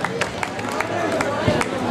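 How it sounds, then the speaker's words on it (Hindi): Audience applause for the mother and aunt taking the stage at a sangeet evening, a dense wash of claps blended with crowd noise and music, steady throughout with occasional sharper hand hits. "तो एक बार जोरदार तालियां हो जाए मम्मी और चाची के लिए।"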